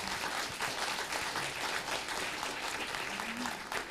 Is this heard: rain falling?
no